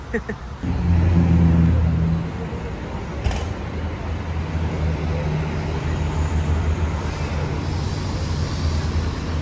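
Double-decker intercity bus on the Madura–Jakarta route heard from inside the cabin: a steady low engine drone and road rumble with rising revs early, continuous and loud, with muffled talk beneath.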